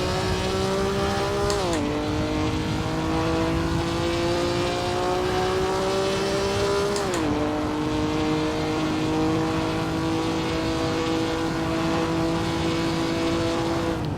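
A historic 1950 Formula 1 car engine races at Silverstone in the Assetto Corsa game, a loud, steady, buzzing drone that rises in pitch and drops sharply at two upshifts, with no talking.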